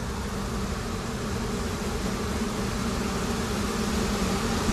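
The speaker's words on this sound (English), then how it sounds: "there's our bees. Kind of see them all running around like crazy" Honey bees swarm around their hive in a dense, steady buzz that fills the whole stretch, close and constant with no voices.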